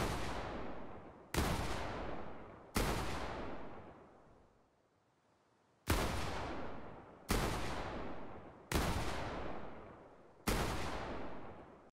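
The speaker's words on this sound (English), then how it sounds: "it is virtually impossible to tell if someone is firing a weapon above you or below you" Single weapon shots ring out in the video game Fortnite Battle Royale, seven loud, booming reports spaced about a second and a half apart with a longer gap in the middle, each trailing off in echo.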